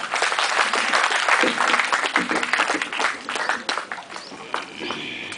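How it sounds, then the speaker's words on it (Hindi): Loud, sustained applause from a crowd at a university speech event in Rajasthan, dense clapping that continues steadily throughout and thins slightly toward the end. "युवा शक्ति का उद्घोष और वीरों वाली भाषा में जोरदार तालियां"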